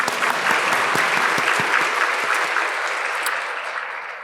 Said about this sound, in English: We can clap longer for him.